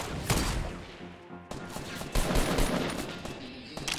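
Gunfire in the video game Fortnite: bursts of rapid shots and single cracks, loud and close, with a short gap before firing resumes and ends in sharp shots.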